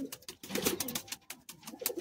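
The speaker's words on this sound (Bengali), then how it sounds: "এটা নর পায়রা।" Madrasi pigeons cooing at a pigeon sale in Bagnan, Howrah, with repeated soft throaty coos rising and falling close by and no talk over them.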